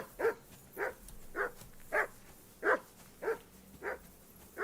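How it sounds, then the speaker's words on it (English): Dog barking in the video game Kingdom Come Deliverance 2, eight evenly spaced single barks at a steady rhythm, moderately close and clear over a quiet background with no talk. "I assume you can hear that damn dog of yours barking."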